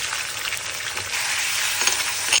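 Washed chicken pieces hit hot sesame oil with fennel seeds and curry leaves, producing a loud, dense, continuous sizzle and crackle up close that cuts off abruptly at the end.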